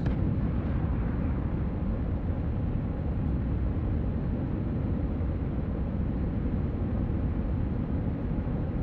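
Rocket boosters on a spaceship in Dual Universe roaring steadily, a loud, dense, unbroken rumble lasting throughout with no pauses.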